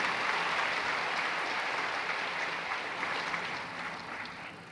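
An audience at a gathering in Bihar claps in a dense, steady burst of applause that carries on throughout and slowly fades a little toward the end.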